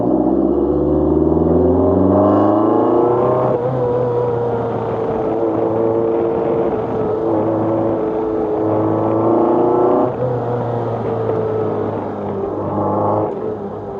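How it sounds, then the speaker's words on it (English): Lotus 340R with the VHPD (very high powered derivative) engine revving hard as the VVC variable valve timing kicks in, a loud, continuous engine note climbing in pitch through repeated up-shifts, with no talk over it. "VVC kicking in. This is a VHPD engine. Very high powered derivative engine."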